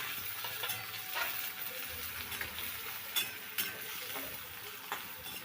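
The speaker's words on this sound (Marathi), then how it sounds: "कांदा चांगला लालसर परतून घ्यायचा आहे." Chopped onion fries in a pan while bitter gourd bhaji is being made, giving a steady soft sizzle with occasional stirring clicks and scrapes, fairly quiet throughout.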